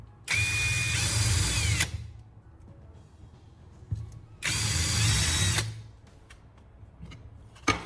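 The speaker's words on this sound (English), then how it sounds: "Keep the drill straight so the holes line up clean" A power drill boring holes, two sustained whining bursts of roughly one and a half seconds each, loud and close, separated by a pause with faint handling noise.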